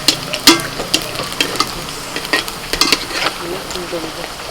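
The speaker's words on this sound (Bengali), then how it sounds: "তেল গরম হয়ে গেছে লুচি এবার দিয়ে দেবো" Hot oil sizzles and crackles as semolina luchi dough fries, with irregular spattering pops and occasional scraping stirs close by.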